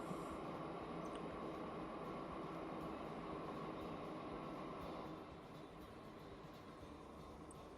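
Train running in Transport Fever 2, a steady rumbling roll of wheels and cars that stays constant, then drops slightly in level near the end, with no talking.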